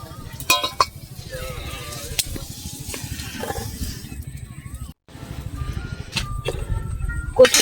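Cooked taro leaves are poured from a pan onto a plate, giving scattered metallic clinks and scrapes against a steady soft background, while someone talks over the sounds.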